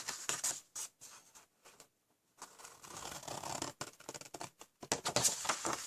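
Close, crisp scratchy snips and rustles as flaps are cut into a paper gift bag up to its score line, in irregular bursts separated by short pauses.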